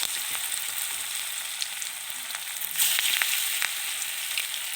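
Pakoras made with chickpea batter sizzle steadily in oil in a small wok, a soft continuous crackle with a few brighter pops and a brief swell of frying partway through.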